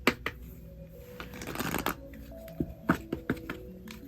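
A deck of cards being shuffled close up, with a burst of riffling in the middle followed by several sharp, separate card snaps and taps, fairly quiet and with no speech.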